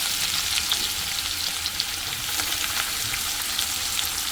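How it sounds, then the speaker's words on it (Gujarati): Chopped onions with cumin, ginger and garlic frying in a pan for vegetable biryani, a steady close sizzle with no one speaking. "તો ફટાફટ કાંદા નાખી લઉં અને બસ કાંદાને ગોલ્ડન બ્રાઉન કલર કરવા લેશું"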